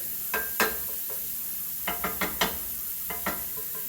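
Onions and pancetta cooking in a pan for a pork sugo with fresh sage, a constant low sizzle broken by several clattering stirs of a utensil against the pan, close and with no talking.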